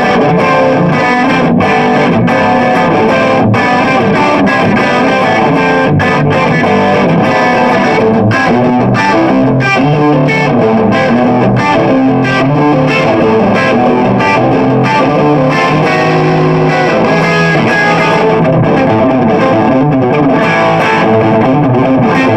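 Heavily distorted electric guitar through a Hotone Nano Legacy amp with EQ and volume at full and gain near the middle, played continuously and loudly with chugging rhythmic strums for over twenty seconds, no talking.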